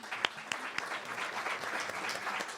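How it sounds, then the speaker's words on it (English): Applause from a Louisville Forum audience at a civic event with the mayor: steady, fairly distant crowd clapping with a few louder individual claps standing out. "Councilman Ben Reno Weber and Councilman, you get your own applause, Ben."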